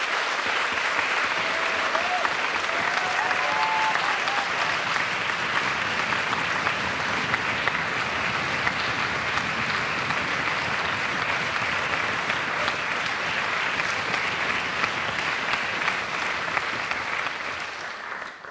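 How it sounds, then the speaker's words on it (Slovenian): An audience at the MusiKras 2023 concert applauds the guest conductor of the youth orchestra with sustained, even, dense clapping that fills the space for about eighteen seconds before tapering off at the end. "En aplavz, prosim."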